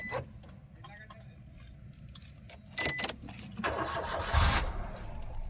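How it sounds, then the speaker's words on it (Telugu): A 2016 Maruti Wagon R VXI AMT with about 61,000 km fires up on a single crank after keys jangle, the engine catching and settling into a steady idle while someone talks nearby. "సింగిల్ సెల్ఫ్ స్టార్ట్ అయింది."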